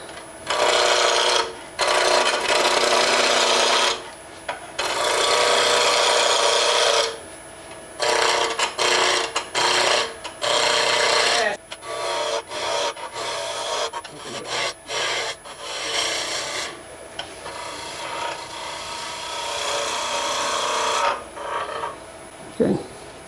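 A wooden bottle stopper spins on a lathe while a Continental roughing gouge cuts it, giving loud raspy shaving bursts that start and stop repeatedly, with short pauses between passes and a steady motor hum beneath.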